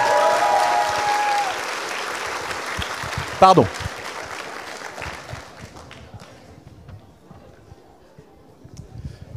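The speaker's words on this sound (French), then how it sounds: "Donc je vous demande d'applaudir Roag Maheri." A graduation audience at a bachelor's degree ceremony applauds a graduate: a loud, dense wave of clapping that fades out over several seconds while a voice briefly speaks over it.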